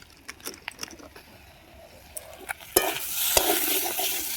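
Jackfruit vegetable curry with sugar and spice mix is stirred in a pan, starting with light spoon taps and scrapes before a louder burst of sizzling frying takes over, close up with no speech.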